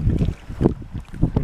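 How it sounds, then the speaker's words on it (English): Blustery wind in the Boundary Waters Canoe Area buffets the microphone in uneven low rumbling gusts, rising and falling several times in quick succession. "Those wind gusts."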